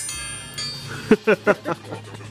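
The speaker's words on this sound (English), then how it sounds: "Like a dinner bell. Yeah. Old dinner bell." Four quick metallic clangs ring out in an even rhythm, close and loud, as an old dinner bell at a blacksmith shop is struck with a hammer, then fade into a faint hum.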